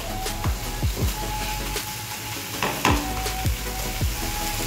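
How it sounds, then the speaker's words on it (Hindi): Masala for kadai paneer fries in a pan with a steady, close sizzle, punctuated by regular scraping strokes of a spatula. "बस और एक मिनट इसको मैं अच्छे से फ्राई करके मसाला को मैं उतार दूंगी।"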